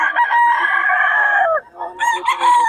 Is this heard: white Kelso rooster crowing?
yes